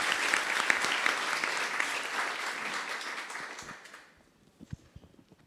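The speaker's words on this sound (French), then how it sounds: "On les applaudit." Audience at a Le Wagon coding bootcamp demo day in Paris applauds a project team, dense clapping filling the room for about four seconds before fading into scattered claps and footsteps.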